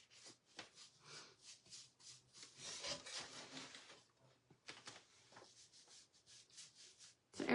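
Dry brush strokes scrub paint onto a wooden lamb-shaped cutting board, close up and quiet, in irregular bursts of short raspy rubbing with brief pauses and a sharper knock at the end.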